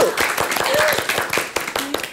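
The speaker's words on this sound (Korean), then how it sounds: "박수 박수!" An audience claps in a talk show setting, quick scattered hand claps over a lively room while people speak and call out over the applause.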